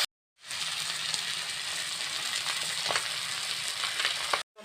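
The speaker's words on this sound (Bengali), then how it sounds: "মাছগুলো আমি 2-3 বার দিয়ে ভেজে তুলব" Mourala fish frying in hot oil in batches, a dense, continuous close sizzle with occasional faint clicks, steady and loud throughout, starting and stopping abruptly, without any voices.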